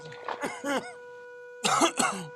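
A burst of coughing and throat clearing in two clusters, close and fairly loud, with a short pause between.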